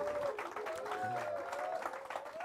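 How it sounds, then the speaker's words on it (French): Audience applause at a Christmas church talk, steady dense clapping throughout with some tonal voice or music lines threading above it. "Donc, sous vos applaudissements"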